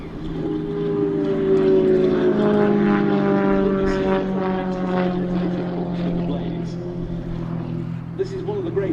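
A 300-horsepower Extra 300S aerobatic plane performing at an air show, a loud droning propeller and engine tone that slides in pitch as it passes overhead, steady and sustained.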